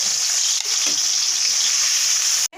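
Boiled sweet pumpkin pieces, lightly salted, fry in a pan, giving a loud, continuous sizzle that holds steady before cutting off abruptly near the end.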